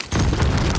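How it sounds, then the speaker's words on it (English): A C4 charge detonates in the Warzone video game, a loud, deep, rumbling boom that starts abruptly and rolls on without letting up, with heavy low-end roar and crackling debris filling the whole stretch. "And that was my C4."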